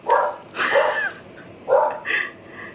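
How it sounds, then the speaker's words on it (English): A dog gives four short, separate barks in an uneven rhythm, close by in an otherwise quiet room. "sorry about the dog."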